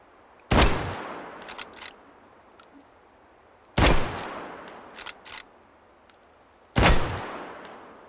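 Carcano M91 bolt-action rifle in the game Hot Dogs, Horseshoes and Hand Grenades: three loud, close shots with ringing tails, each followed by the clicks and clacks of the bolt being worked.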